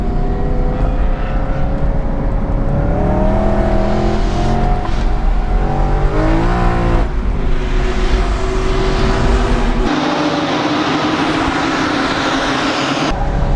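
A tuned BMW E90 M3 with its V8 engine roars loudly around a race track, holding a continuous high-revving drone with rising and falling pitch through gear changes and corners, no speech.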